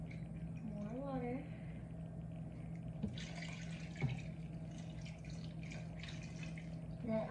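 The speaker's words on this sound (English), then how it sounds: "And then I'll add the water." Water is poured into a container while making tamarind water, a faint trickling fill beneath a steady hum, with a voice speaking early on.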